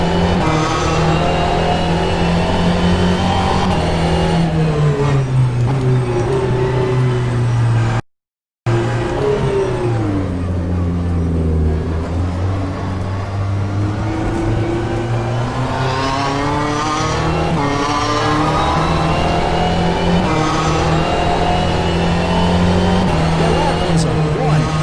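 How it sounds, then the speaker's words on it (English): Racing car engine from a sim racing game pulling out of the pit lane, revving and shifting through gears in rising and falling sweeps with one brief dropout, loud, with someone talking over it. "you may be able to hear the desktop audio as well of the data logger kicking in as I left the pit lane"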